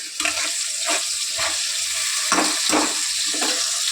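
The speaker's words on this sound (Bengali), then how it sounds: "পেঁয়াজ লাল লাল হয়ে ভাজা হয়ে এসছে এবার এটা দিয়ে এখন ভালো করে কষাতে থাকি" Onions fry and sizzle in leftover meat-frying oil in a pan as spices go in for a spicy mutton curry, with steady close sizzling broken by repeated scraping stirs.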